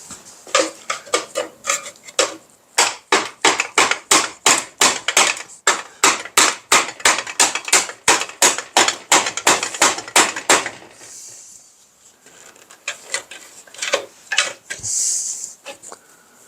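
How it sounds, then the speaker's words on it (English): Hammer repeatedly striking a screwdriver driven into an antique fire extinguisher, a fast run of about thirty sharp metallic clanks, close and loud, then a pause filled with faint scraping and handling noise. "Let me get the old screwdriver-y and a hammer."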